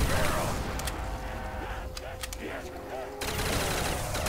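Gunfire in a Nazi Zombies video game on a house map: rapid overlapping bursts over a dense, noisy game soundscape, with a voice talking over the shooting.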